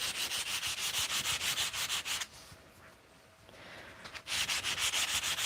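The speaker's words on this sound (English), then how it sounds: "It's really loud for me. But that's because the grit of this sandpaper is coarse." Coarse-grit sandpaper rubbed back and forth by hand on a surface, loud rhythmic rasping strokes close up, pausing for about two seconds before resuming.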